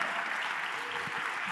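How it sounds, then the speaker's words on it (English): Steady applause from a conference audience at a closing session, a dense, even wash of clapping with no pauses. "there is one person I think that really deserves a round of applause, is Federica"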